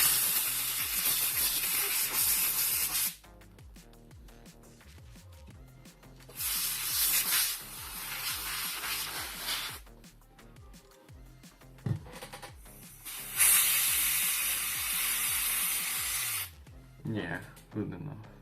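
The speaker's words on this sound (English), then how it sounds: "I forgot that they have this canned air." Canned air blasts in several long hissing bursts while cleaning the internals of an HP Omen 15 laptop during a thermal paste change, loud and close, separated by short pauses with small handling clicks.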